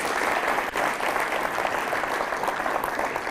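An audience at an indoor forum claps in dense, steady applause that fills the whole stretch, loud and close, with no pauses.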